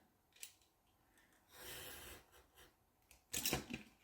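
Scissors snip along a measured, ruler-marked line, with a brief crisp cut, a longer rasping slice, then a sharper burst of cutting close by, quiet overall and without speech.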